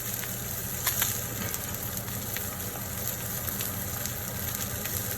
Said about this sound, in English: I'll vent the kitchen a little bit. You might hear that, my vent.